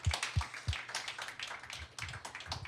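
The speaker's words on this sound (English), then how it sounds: "Everybody give him a quick round of applause." A live audience claps after a founders' story talk, starting with a few sharp, near claps that thin into scattered, softer clapping over a few seconds, with no voices on top.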